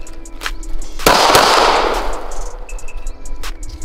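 A sharp report at close range from a BB gun during a seven-yard shooting demonstration, followed by a loud broadband rush that fades over about a second, with a few fainter ticks and knocks around it.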